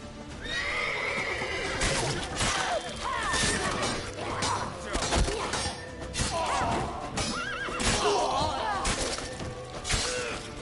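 A horse in The Witcher 3 neighs and whinnies repeatedly over clip-clopping hooves, with sharp crashing impacts and game battle noise scattered throughout, fairly loud and busy.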